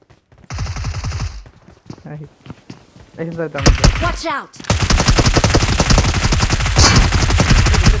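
Automatic gunfire in the video game PUBG cracks in dense bursts, with a short volley early on and a long, loud sustained stream in the second half, mixed with excited voices talking over the shooting.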